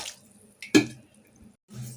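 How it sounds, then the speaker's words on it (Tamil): Water poured onto jaggery to dissolve it for sweet rice, a brief splash and pour with faint drips before and after, close and alone. "இது முழுகிற அளவுக்கு நம்ம தண்ணி சேர்த்து கரைச்சி எடுத்துக்கலாம்"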